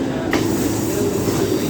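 Mumbai local train pulling away and running on the rails, a close, loud, steady rumble with light wheel clatter and a brief sharp click near the start, no voices.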